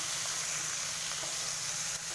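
Soaked chana dal hitting hot oil already seasoned with whole red chili and asafoetida, a loud, dense, continuous sizzle with no pause, close up.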